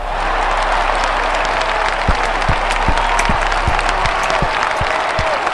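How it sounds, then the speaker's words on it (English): An audience claps steadily, a dense wash of applause with a few sharper individual claps standing out, fairly loud and close. "What the fuck are you clapping for?"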